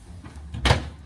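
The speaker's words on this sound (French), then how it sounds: "Attends, faut que je ferme la porte à clé." A door is shut with a single solid thud, a brief burst of clatter from the latch or key at a near distance, set against quiet room tone with no talk.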